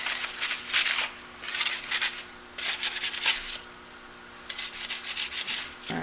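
Light scuffing strokes across a plastic dirt bike skin on an XR10, sanding it lightly before paint: four bursts of dry rubbing in a steady back-and-forth rhythm, close and moderately loud, with no talking.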